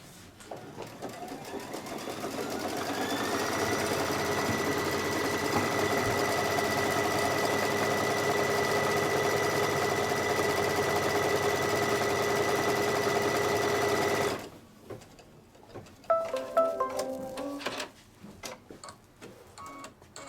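An embroidery machine stitches a placement line and blanket stitch, a fast steady mechanical whir with rhythmic ticking that runs for about fourteen seconds, then stops, leaving faint handling clicks.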